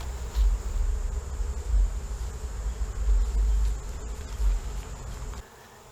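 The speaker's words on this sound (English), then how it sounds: "A few bees getting a little nectar." Honey bees buzz and hum around a frame of drawn comb filled with dark honey, a close, continuous low drone swelling and easing in waves, with a faint steady high whine above, alone without voices.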